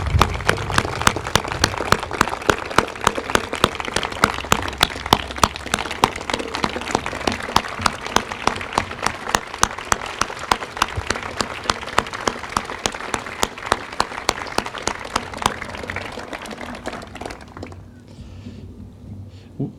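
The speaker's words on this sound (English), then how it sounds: "round of applause" At a gun violence prevention bill signing, an audience applauds for students, many hands clapping in a sustained round with sharp, regular individual claps prominent throughout, fading out near the end.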